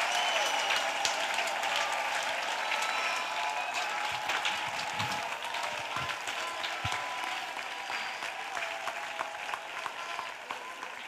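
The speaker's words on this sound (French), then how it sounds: "Let us clap for Jesus Christ." A church congregation claps steadily during an intercession and evangelism service, the dense applause sustained and even throughout with a faint murmur of voices beneath.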